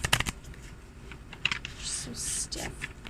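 A deck of stiff new tarot cards is shuffled, giving a couple of sharp riffling bursts followed by softer sliding and flicking sounds, close and moderately loud.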